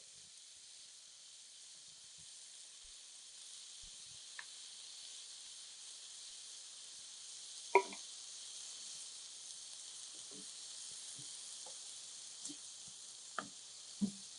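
Diced tomatoes sizzle in a shakshuka skillet with a steady, quiet hiss lasting throughout, broken by a few faint taps and small pops near the end.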